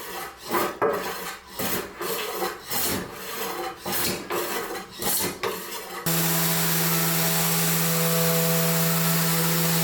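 Old Stanley hand plane rasping along a wooden guitar body in a run of repeated strokes for about six seconds, then a steady broadband hiss with a low hum takes over for the rest.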